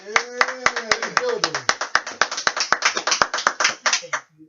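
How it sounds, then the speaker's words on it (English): Rhythmic, evenly spaced handclaps on a radio show, close and loud, with a voice talking or singing along over most of the clapping before it stops abruptly. "Can we give a round of applause?"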